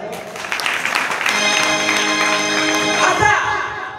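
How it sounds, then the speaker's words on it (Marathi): Audience clapping at a Marathi bharud folk performance by a maharaj, steady applause filling the space for a few seconds with a voice carrying over it. "का टाळ्या वाजवा"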